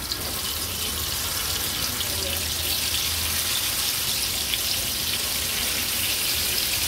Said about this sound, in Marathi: एक एक करून आता ह्या नॉर्मल आपल्या कर्लीच्या तुकड्या फ्राय करून घेऊया